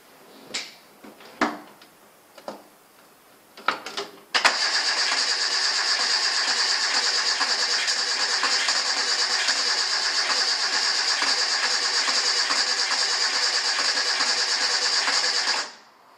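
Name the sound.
Santana SJ413 car engine starting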